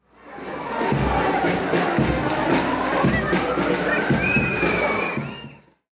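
Torch-carrying crowd marching through Manisa streets with Turkish flags, chanting patriotic slogans in loud rhythmic shouts, a dense mass of voices close by with some thumping beats underneath.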